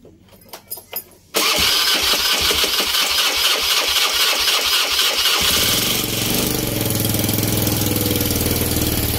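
A small carbureted Beat motor scooter engine cranks with a rapid rattling starter, catches, and settles into a loud, steady idle close by.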